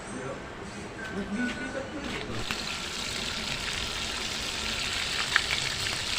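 Food sizzles and crackles steadily in hot oil, a continuous frying hiss, with a brief murmur of voices near the start.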